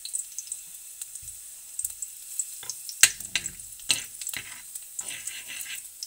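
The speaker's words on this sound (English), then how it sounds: "So just slightly brown the garlic." Garlic browning slightly in a pan for a sardine omelette, with a steady soft sizzle and scattered sharp clicks and scrapes of stirring, including a louder clatter midway, close and with no talk.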